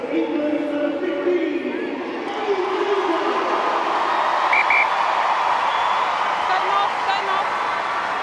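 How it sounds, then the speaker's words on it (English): A record crowd at an England versus Ireland Women's Six Nations rugby match at night, a broad roaring stadium hubbub that rises and holds, with faint voices mixed in. "what a crowd we've had here tonight"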